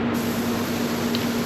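Spray gun hissing steadily and continuously up close as it lays clear coat on a car panel, a constant airy rush with no breaks.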